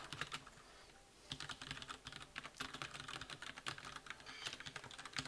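Fast, fairly quiet typing on a computer keyboard while coding, a brief pause and then dense, irregular key clicks in a steady stream.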